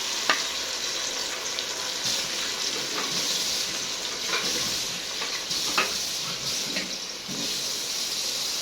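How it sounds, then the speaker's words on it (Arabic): Loud, steady sizzling and crackling of blended tomato puree hitting hot oil in a pan, continuous throughout with occasional brief pops. "الزيت سخن معايا، هنزل بقى بالطماطم"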